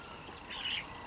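A penned quail gives one short, faint chirp in a quiet room.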